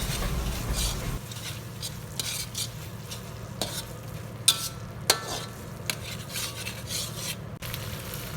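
Chopped red onion being stirred in a hot pan, a steady sizzle with scraping strokes of the utensil and a few sharp clinks against the pan, no voices.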